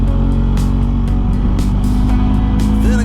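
A BMW GS 1250 motorcycle engine runs steadily in third gear at about 2500 rpm on a mountain road, with a loud, continuous low rumble and some wind noise.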